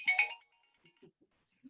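A mobile phone ringtone chirps briefly and fairly loudly at the start, then cuts off, leaving a few faint scattered noises during a meeting.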